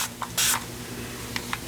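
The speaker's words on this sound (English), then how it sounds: "maybe stick it in here so I can spray water into it." A spray bottle spritzes water into paint: one crisp hissing burst, with a few shorter, fainter puffs before and after against a quiet room.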